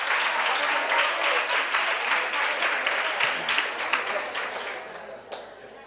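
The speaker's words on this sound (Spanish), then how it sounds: "Otro aplauso para ellas." An audience at a talk on promoting reading through multiple literacies breaks into dense, sustained applause, loud and continuous for several seconds before tapering off toward the end.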